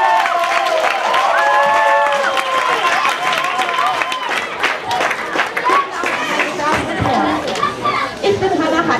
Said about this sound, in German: Ein großen Applaus für Minden.